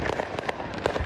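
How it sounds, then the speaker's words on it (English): Illegal fireworks explode in California with a dense, loud rush of crackling pops and sharp bursts, and nobody speaks. "illegal fireworks have simply gotten out of hand"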